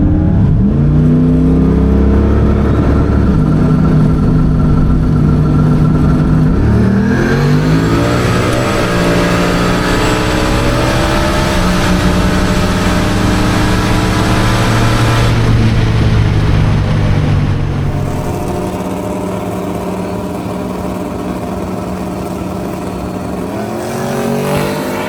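A race car and an Isuzu truck launch in a drag race at LS Fest, engines roaring loud and close as their rising pitch climbs through gear changes over about twenty seconds, then easing to a lower steady drone, with no talking.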